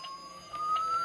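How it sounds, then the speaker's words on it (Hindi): A toy car steering wheel plays an electronic emergency siren with steady, sustained wailing tones that slowly shift pitch, fairly loud and close, with no voices. "ये साइरन है, और ये देख सकते हैं एम्बुलेंस, ये पुलिस वाली, ये फायर वाली"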